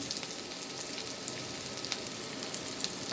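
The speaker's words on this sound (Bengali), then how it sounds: "আস্ত জিরাটা একটু ভাজা হলো" Whole cumin seeds fry in hot oil in a pan for a fish dish, giving a loud, steady, close sizzle with scattered small pops and crackles throughout and no voices.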